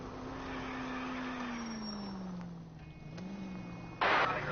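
A car is driven in the video game LA Noire, with a steady engine drone that slowly falls in pitch, a brief rise, then a short burst of tire noise near the end.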